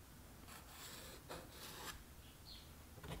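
A marker or scribe drawn across the front panel of a small tube amplifier chassis, giving faint scratchy strokes in two or three short bursts, close and quiet with no talking.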